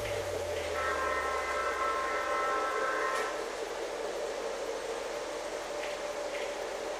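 An MTH model train horn blows a steady multi-tone chord for about three seconds, then cuts off, leaving a continuous mechanical hum and faint clicks behind it. No one speaks.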